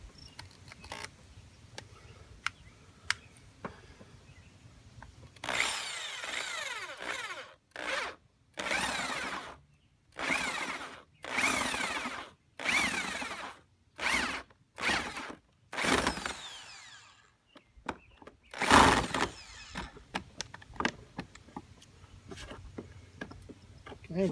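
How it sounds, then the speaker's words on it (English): A power drill bores a hole in a plastic panel on a Xciting 500Ri scooter, heard as about a dozen short whirring bursts separated by pauses, close and moderately loud, with brief speech near the end. "so I'm just going to go ahead and drill it"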